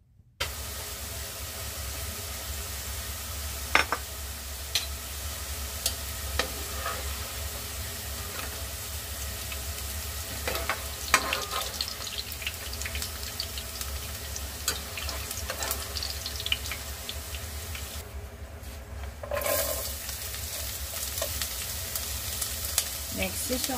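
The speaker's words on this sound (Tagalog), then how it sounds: "Pipirituhin natin yung ating patatas hanggang mag golden brown" Potatoes fry in hot oil for igado, a steady close sizzle running throughout with scattered pops and occasional stirring clinks, and faint voices now and then.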